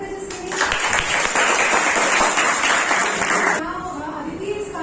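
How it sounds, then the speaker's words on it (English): Students clap together in a classroom, a dense round of applause that swells quickly, holds steady for a few seconds, then fades out as the room settles. "Clap for Tejaswini"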